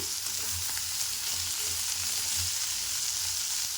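Radish leaves curry frying in a pan makes a steady, close sizzle with faint stirring scrapes and low rhythmic bumps, and no voices.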